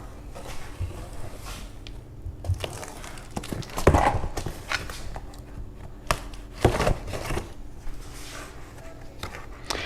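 A trusty knife slices shallowly through the cardboard of a box holding Lloyd custom floor mats for a Camaro ZL1 1LE, a series of close, scratchy cuts and tearing scrapes with a few sharper pulls in between.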